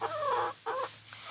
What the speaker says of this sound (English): Please excuse the chicken ruckus that's going on.